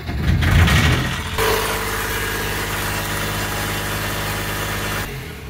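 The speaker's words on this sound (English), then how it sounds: "turn over the engine, and see if I get any water out" A marine diesel engine on a boat is turned over, a steady mechanical drone with a low rhythmic chug that holds evenly for several seconds after a rougher start.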